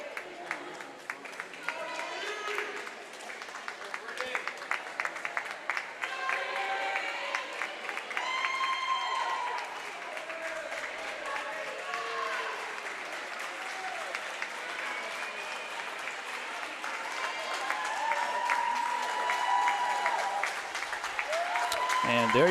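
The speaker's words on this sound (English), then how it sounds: "Franklin faithful cheering on their teammate in lane 6." Spectators at a high school varsity swim meet cheer and clap steadily in an echoing pool hall, a dense, sustained roar of crowd noise with shouting voices mixed throughout.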